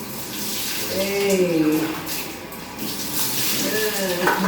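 Water runs steadily from a shower while a cat is rinsed, a continuous wash of spray under a brief spoken word and a few faint vocal sounds.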